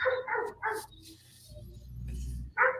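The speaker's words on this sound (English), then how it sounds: "I don't know why my dogs are barking so much" Pet dogs bark in short bursts nearby, several sharp yaps early on, then a low rumbling stretch and a final bark.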